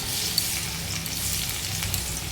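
Okra and potato fry in hot oil, giving a dense, steady sizzle heard close up over a short stretch.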